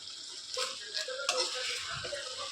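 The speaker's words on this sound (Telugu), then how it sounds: "ఇటు పక్కన వంకాయ ఫ్రై అవుతున్నది" Brinjal (eggplant) sizzles and spatters steadily in a hot frying pan in a home kitchen, a continuous close crackle with a few louder pops and no talking.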